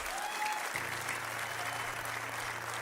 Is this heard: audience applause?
yes